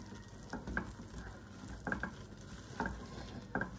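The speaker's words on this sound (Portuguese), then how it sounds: "E vai-se mexer até despegar do fundo da panela." A spoon scrapes and stirs thick flour dough for pumpkin fritters in a saucepan, with a few distinct scraping strokes over a soft sizzle and low kitchen hiss.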